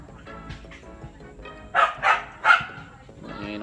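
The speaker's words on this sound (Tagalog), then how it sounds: "Yan yung aso natin" Three sharp, loud barks from a dog outdoors, coming in quick succession amid background chatter and someone talking.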